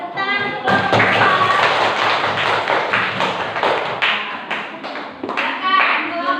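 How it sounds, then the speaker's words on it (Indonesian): A classroom of students applauds a presenting group, dense steady clapping that fills the room for several seconds, with children's voices mixed in. "Tepuk tangan untuk kelompok 2."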